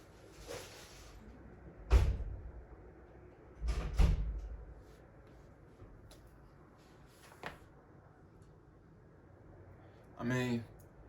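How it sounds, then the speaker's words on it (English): A door swings shut with a couple of dull, heavy thuds near the start and middle, followed later by a lighter knock and a short rattle, all in a quiet room. "close the door"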